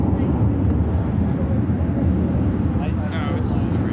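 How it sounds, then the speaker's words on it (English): A CRJ 200 LR jet airliner takes off at Chicago O'Hare, a broad, steady roar with wind buffeting the microphone, with faint radio chatter passing over it. "This is Contour Aviation 3068 taking off to Kirksville on the CRJ 200 LR"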